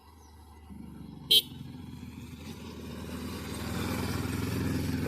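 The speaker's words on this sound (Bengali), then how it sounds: "ইন্ডিয়ার একটি বাইক আসতেছে" An Indian motorcycle approaches at the India–Bangladesh border, its engine hum swelling gradually from faint to nearer, with a single brief sharp horn toot early on.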